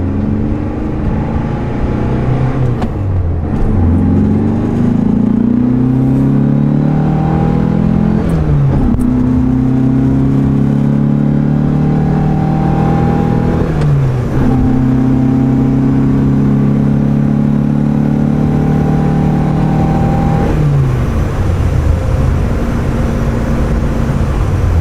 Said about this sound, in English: I'm spending all my time driving in second and then in third.